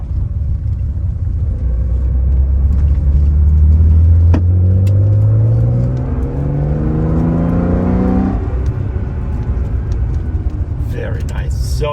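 A 1977 Porsche 911S Targa engine revving hard while driving, loud in-car sound with rising pitch through the gears, a shift, then a second climb before easing off under steady road rumble.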